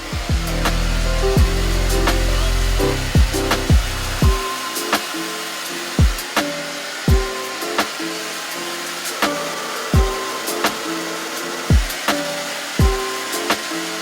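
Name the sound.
hair dryer drying hair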